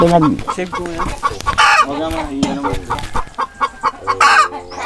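Chickens cluck close by at a backyard house-building site, a rapid irregular run of sharp clucks and squawks with a rooster-like call, loud and busy, with a person's voice mixed in.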